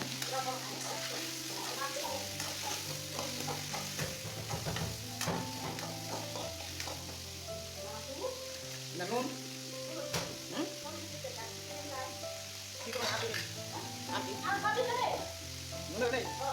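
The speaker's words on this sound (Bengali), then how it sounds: "সবজিগুলো দিয়ে দিলাম এরপর তেলে ভাইজে নেব" Vegetables such as potato and cauliflower fry in oil with steady sizzling and repeated stirring scrapes, close and continuous, over sustained tonal background sounds and some voices.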